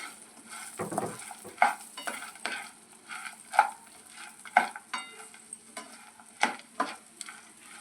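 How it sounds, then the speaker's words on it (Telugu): Green chillies frying and being stirred in a pan for coconut chutney, with repeated scraping stir strokes over a soft steady sizzle, close and fairly loud, no talking. "మీడియం ఫ్లేమ్లో పెట్టుకుని ఫ్రై చేసుకోండి"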